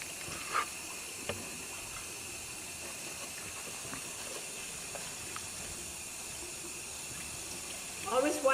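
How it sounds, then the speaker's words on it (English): Running tap water while fruits and vegetables are rinsed for a simple orange and tomato salad, a steady faint hiss of flowing water with a few small knocks and a louder splash near the end. "Always wash your fruits and your vegetables."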